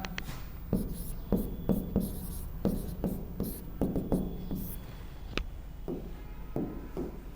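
A pen or chalk scratches out writing in short, rhythmic strokes with brief pauses between words, close and fairly quiet, with no talking.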